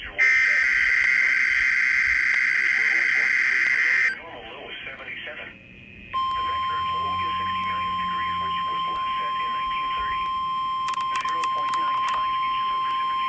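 NOAA All Hazards Weather Radio alarm test tone during a severe weather stream: a loud, steady electronic tone that stops, then a second sustained pure tone runs on under a voice reading a broadcast message.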